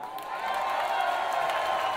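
Audience at a rock concert in Moscow sustains steady, loud crowd noise with applause and scattered cheers, a continuous roar held at even level throughout.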